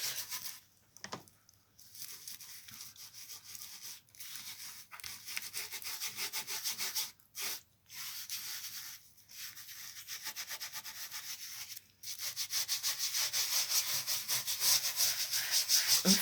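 Steady, quiet rubbing over a stencil laid on paper, repeated strokes with short pauses between them, close up and without any talk.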